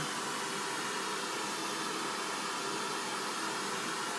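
A steady, unbroken hiss of pink noise test signal from a Behringer X32 mixer fills the whole stretch at constant loudness, broadband and even with no variation.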